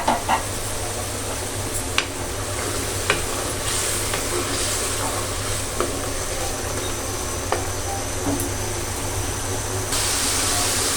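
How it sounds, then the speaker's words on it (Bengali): Fish and spices fry in a pan with a continuous sizzle and hiss, occasional clinks of stirring, and a faint voice in the background. "একটু ঢাকা দিয়ে দিই, মাছটা কষানো হোক।"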